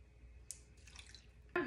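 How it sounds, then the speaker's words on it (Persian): Half a cup of water poured over a whole chicken with rosemary and olive oil before roasting, heard as a brief splash of liquid followed by a louder, close splatter near the end. "یه نصف پیمونه آب."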